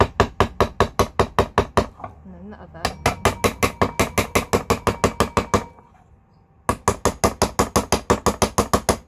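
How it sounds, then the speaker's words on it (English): A metal rivet hammered for jewellery making, a fast run of sharp bright strikes in regular bursts, broken by two short pauses where a voice speaks briefly. "Back to the hammering. Hammer one way"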